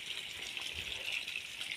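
Water gushing out of a farm pipeline near a village well, a steady close rushing hiss that runs unbroken with no voices over it.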